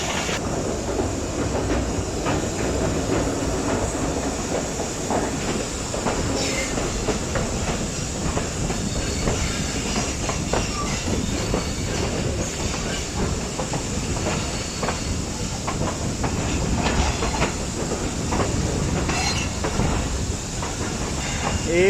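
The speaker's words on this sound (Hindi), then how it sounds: "ट्रेन एंटर हो चुकी है मियाँ वाली की हदूद में" Thall Express, a private passenger train running from Rawalpindi, rolls into Mianwali with a steady, loud rumble, rhythmic clickety-clack of wheels over rail joints and a faint hiss throughout.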